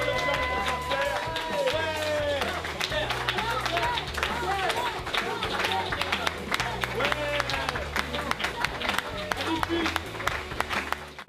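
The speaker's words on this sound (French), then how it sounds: "Voilà, applaudissements s'il vous plaît." An audience bursts into sustained applause, dense clapping mixed with cheering and crowd murmur, with voices heard over it.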